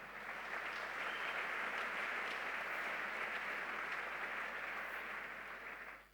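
Congregation clapping steadily in a church, a dense, sustained wash of applause at even loudness with no talk over it, tapering off at the very end.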